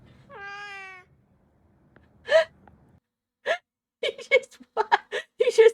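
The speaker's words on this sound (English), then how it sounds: "you just watch him making noises and being a cat" A cat gives one clear drawn-out meow, followed by short chirps, squeaks and gasping sounds, close and in a quiet room.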